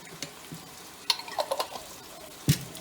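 Curry paste hitting a hot large pot for a vegetable curry, with soft sizzling, a few scraping stirs and clinks of the utensil, fairly faint and close, and no one speaking.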